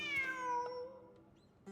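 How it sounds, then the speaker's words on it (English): A cat meows once, a clear drawn-out cry with falling pitch, in Genshin Impact during an escape from desert ruins, followed by faint soft game sounds and a small thump at the end. "heard the sound of a cat while escaping the ruin"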